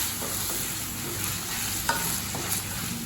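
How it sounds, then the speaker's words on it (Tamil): Tomatoes and onions sautéing in a pan for paneer butter masala, a soft steady sizzle with occasional light stirring scrapes and clicks, close and quiet with no voices. "இப்போ தக்காளி நல்லா வதங்குற வரைக்கும் வெயிட் பண்ணலாம்"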